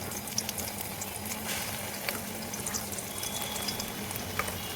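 Ground spice paste frying in hot oil in a wok for a spicy soya chunks dish, a steady close hiss and crackle of sizzling that carries on evenly throughout with no talking.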